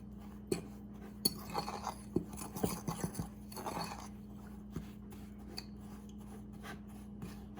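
Cinnamon and brown sugar being mixed in a bowl for an apple crisp, heard as faint scraping and gritty rubbing strokes with a handful of light clinks of a spoon against the bowl, close and quiet.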